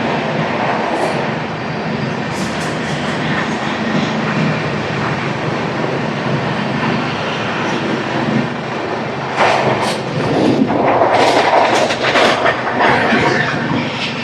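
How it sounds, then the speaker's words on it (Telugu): An Andhra Pradesh Superfast Express passing through Anaparthi railway station, a loud continuous rumble with wheel clatter and rattling coaches throughout, growing busier near the end. "Skipping Anaparthi railway station."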